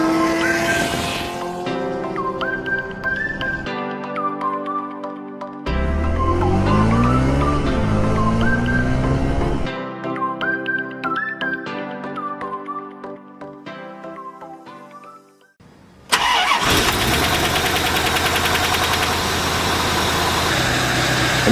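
A Corvette engine cranks and catches, then settles into a loud, steady idle with a rough, rumbling tone and shifting intensity, ending in a broad burst of noise. No voices are heard.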